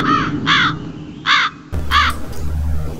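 A crow caws four times in a steady rhythm, each call harsh and loud, with a low rumbling background that grows heavier partway through.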